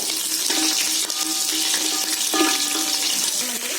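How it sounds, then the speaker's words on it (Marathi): Onion, whole garam masala spices and green chilli fry in a pan with a loud, close, steady hiss and crackle, broken by a few brief clinks. "कांदा गरम मसाला मस्त फ्राय झालाय. त्याच्यामध्ये आता हिरवी मिरची टाकते."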